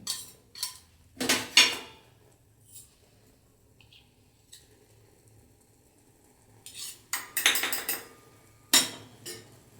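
A spoon stirs and scrapes a thick coffee powder scrub mixture in a bowl, heard as short clinking bursts separated by quiet pauses, close and fairly crisp, with no voices.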